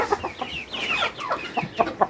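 Close-up clucking from chickens, including a brown hen, in a coop in winter at -3°C, a run of short, uneven squawks and clucks with a few higher calls, no other sounds.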